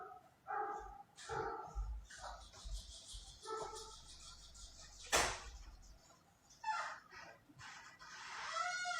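A dog barks repeatedly at a rural Azerbaijani home, the barks mixed with chickens and a crowing rooster nearby; the farmyard stays busy and fairly loud throughout, with no one speaking.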